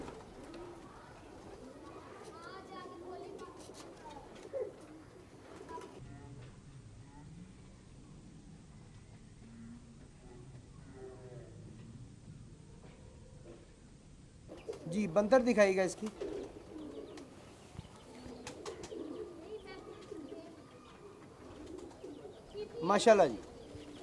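Pearl pigeons cooing in short low bursts, one louder call near the middle and another near the end, with people talking over and between them.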